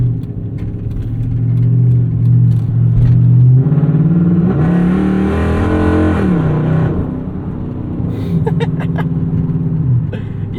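A Dodge Charger ute with a Hemi V8 idles with a deep rumble, then revs up and falls back, loud and close, before settling to idle again with some clatter.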